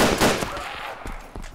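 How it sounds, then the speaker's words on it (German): A loud burst of gunfire in the video game DayZ Overpoch opens, followed by a few fainter, scattered shots trailing off. "jetzt habe ich geschossen"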